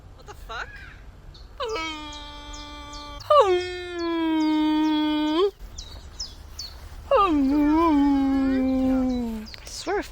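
A person's voice imitates a deer call with three long, wailing, moaning cries that rise and then sag in pitch. Loud and close, with short gaps between the calls.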